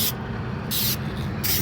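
An aerosol can spray-paints the bed of a Ford F-1 truck in two close, loud hissing bursts over a steady low background rumble.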